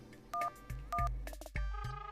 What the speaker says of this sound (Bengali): একবার ফোন করে গুড নাইট জানাই